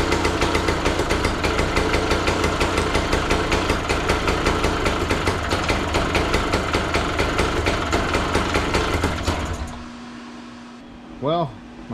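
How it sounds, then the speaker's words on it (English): A Serveta Jet 200 scooter engine runs steadily for about nine seconds with a rough, pulsing idle, then cuts out, leaving a quiet room with a brief faint squeak near the end. "now we can start the bike up and see if the lights work"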